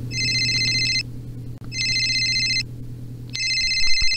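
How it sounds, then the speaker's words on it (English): An electronic phone ringtone sounds loud and close in three repeated bursts with short gaps between them, and nothing else plays over it. "Oh, my phone's ringing."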